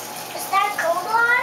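Clothes are pushed into cold water for washing, with soft sloshing and swishing close by while someone talks over it.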